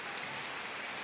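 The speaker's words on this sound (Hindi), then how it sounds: "इतनी मोटी बारिश लगी हुई है" Heavy, steady mountain rain falling in Chamoli amid cloudbursts and hail, a dense continuous hiss of drops on surfaces with no pauses, loud and close throughout.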